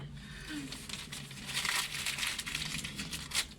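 A plastic bag crinkles and rustles close by in short bursts, soft and crackly, over a low background hum.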